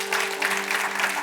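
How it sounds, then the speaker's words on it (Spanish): Church congregation applauding during a Spanish-language sermon, a brief burst of clapping from the crowd layered over a sustained organ or keyboard chord. "Denle ese aplauso fuerte a Cristo."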